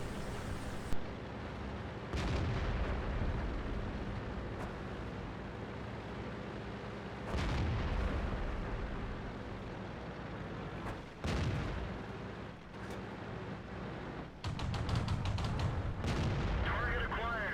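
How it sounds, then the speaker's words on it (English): Auto cannon fire from a light tank in a World of Tanks–style battle, rapid bursts of booming shots over constant rumbling game ambience and engine noise, loud and dense throughout. "I guess this is auto cannon because it sprays rounds."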